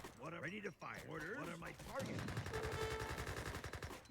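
Gatling guns fire in a strategy video game battle as a rapid, steady stream of shots. A commentator talks over the first half, and then the fast firing continues alone.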